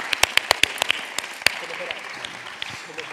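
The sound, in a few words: audience applause for an actress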